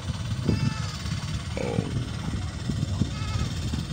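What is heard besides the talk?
goats bleating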